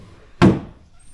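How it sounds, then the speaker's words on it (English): A drawer slides shut with a single close, soft thump, loud and alone in a quiet indoor room, with a border terrier nearby. "Shut the drawer."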